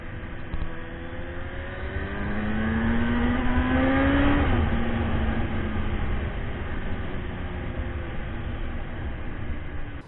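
A BMW F750GS motorcycle with a Puig 9770 windscreen is ridden at speed. The engine drones loudly and steadily, rising in pitch around the middle before settling, and wind rush fills the background. No one speaks.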